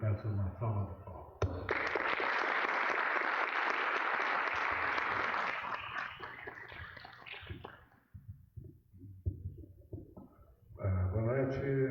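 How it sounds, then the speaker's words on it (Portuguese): An audience applauds at a round-table event, sustained clapping from a full hall for about six seconds that fades out, with speech before and after. "eu peço uma salva de palmas"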